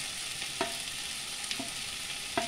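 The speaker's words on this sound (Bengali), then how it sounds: "এবার ভালো করে এই মশলার সাথে ভালো কষে নিচ্ছি।" Deboned loté fish is stirred into sizzling spice paste in a pan, with three distinct scraping strokes spaced about a second apart over a constant frying hiss.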